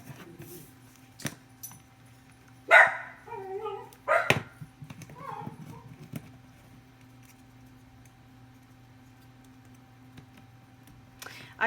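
An indoor puppy barks in two loud, close bursts a couple of seconds apart, with whimpery trailing yelps, amid the faint tapping and rustle of paper crafting at a desk.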